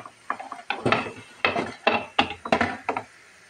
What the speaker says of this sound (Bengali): এখন আমি আবার ঢাকনা দিয়ে দেবো।